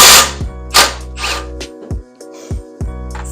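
A power tool working on Mazda Miata suspension during a coilover and adjustable end link install, giving short whirring, ratcheting bursts with brief pauses between, loud and close.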